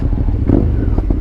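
A large motorcycle engine idles and churns steadily at close range while the rider eases it through a tight spot, low rumble with a few brief clattering bursts.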